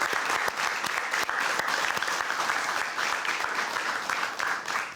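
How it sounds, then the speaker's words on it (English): A studio audience at a televised high school academic quiz competition gives steady, crowded applause, a dense patter of many hands clapping at moderate distance throughout. "Wow, I just like round of applause for all of you guys."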